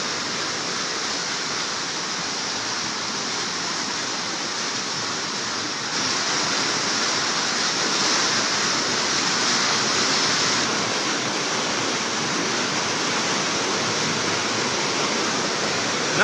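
Floodwater rushes in Bonbon, Libon, Albay as a loud, continuous roar of torrent noise that swells slightly partway through and never lets up.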